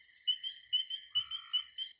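Frogs calling together in a high, ringing, bell-like chorus, pulsing in a steady rhythm of repeated bursts, with no voices.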